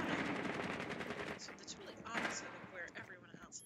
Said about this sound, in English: It looks like he was trying to shoot through the floor there to see if he could get that player that was holding that hatch through the floor